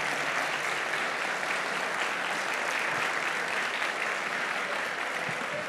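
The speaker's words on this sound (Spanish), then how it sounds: "Ya pueden aplaudir." Dense, sustained applause from a conference audience in Bogotá after a talk, a steady wash of many hands clapping at even loudness throughout, with no speech over it.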